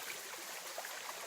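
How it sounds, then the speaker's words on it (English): Pickle Creek, a clear stream running through sandstone valleys in St. Genevieve County, Missouri, flowing with a steady, faint wash of water and small bright trickles, no voices. "Pickle Creek runs 2 miles through St. Genevieve County's sandstone valleys in Missouri"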